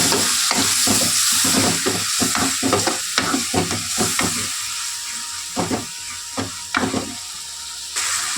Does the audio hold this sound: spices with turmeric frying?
yes